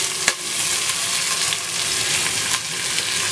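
Three large thinly sliced onions fry in hot oil, making a loud, dense sizzle with a couple of brief stirring scrapes.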